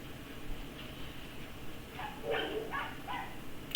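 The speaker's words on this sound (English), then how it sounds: "They're barking at the neighbor's dogs." Several dogs bark and yip at neighboring dogs, a few faint to moderate bursts clustered in the middle of the stretch over steady background hiss, with no talk.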